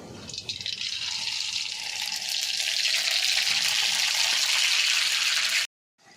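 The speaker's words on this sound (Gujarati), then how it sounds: "તો હવે તેલ આવી ગયું તો રાઈ નાખી દઈએ" Mustard seeds are dropped into hot oil, a loud, dense, continuous sizzle that builds and holds close by for several seconds before cutting off abruptly, with no talking.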